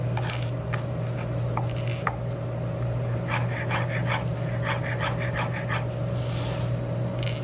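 A kitchen knife slices food into strips on a cutting board, with repeated close, rhythmic strokes and soft taps over a constant background hum.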